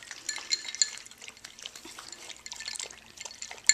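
Small ice cubes clinking and sliding in a dish as a dog licks and noses at them after a walk, a string of light close clicks and drips at a moderate level.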